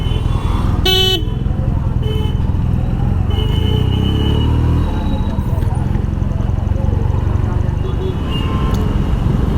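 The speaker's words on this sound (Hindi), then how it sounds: "तो ये है ट्रैफिक कंडीशन सुबह के 7 बजे राजेंद्र नगर टर्मिनल के सामने" Morning rush-hour traffic in front of Rajendra Nagar Terminal, with a steady loud roar of cars and motorcycles and a few sharp horn toots, one especially bright near the start, over continuous engine noise.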